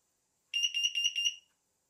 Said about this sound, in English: My carbon monoxide alarm went off. Here it goes again.